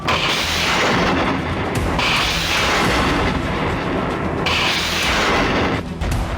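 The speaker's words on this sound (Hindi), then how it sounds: "डोनेस्क में रूसी सेना ने MLRS से इस तरह विध्वंसक प्रहार किया" A Russian MLRS rocket artillery strike in Donetsk produces continuous loud, rumbling roars and booms of rocket fire and blasts, heavy and sustained with brief dips between volleys.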